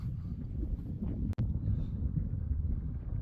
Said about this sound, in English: Sorry, it's a little bit breezy.